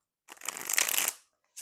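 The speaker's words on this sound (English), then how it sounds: "And trust me, I shuffle these." A deck of tarot cards is shuffled once in a quick riffle lasting about a second, a close, crisp, dense flutter that stops abruptly, followed by a brief tap.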